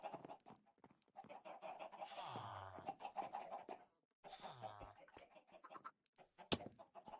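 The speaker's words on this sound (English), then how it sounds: "There's so many chickens." Chickens cluck in a video game, a flock of fowl giving repeated short calls in irregular bursts, with a brief pause midway and a sharp sound near the end.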